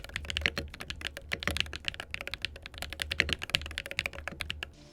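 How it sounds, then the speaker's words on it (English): Rapid, continuous typing on a Luminkey Magger68 Pro, a premium 65% Hall effect keyboard, with dense overlapping keystroke clacks at a steady pace, close and fairly loud, no voices. "Now this doesn't sound too bad because it's a HE keyboard, a Hall effect keyboard."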